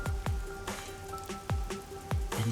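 Steady rain patters across the Kamasaki District, a busy city area in the video game Master Detective Archives: Rain Code. Drops hit surfaces throughout, with several sharp, close splats standing out over the constant wash and a faint tonal hum underneath.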